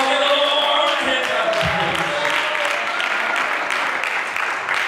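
Congregation applause in a church service, sustained dense clapping from many people that holds steady throughout, with a few voices and shouts rising over it.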